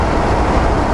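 A truck engine drones and rumbles as it downshifts half a gear on a slushy, snowy Okanagan Valley road, a loud, steady low roar with road noise and no talk.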